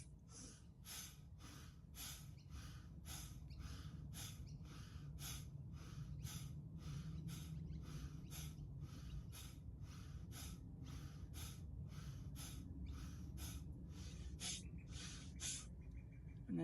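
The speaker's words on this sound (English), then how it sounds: "15 Kapalabhati breaths." Kapalabhati yoga breathing, a steady train of about fifteen sharp, forceful nasal exhalations in an even quick rhythm, close and moderately loud over a soft background hum, with no talking.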